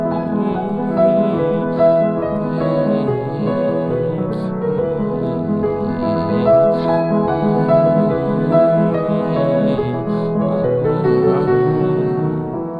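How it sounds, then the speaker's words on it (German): Leonore's prayer-like opera aria "Tu grazia, o Dio" is sung in a steady, loud, sustained line over a full harmonic accompaniment, with no speech. "Sie singt Tu grazia, o Dio,"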